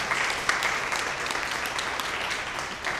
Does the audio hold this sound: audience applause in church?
yes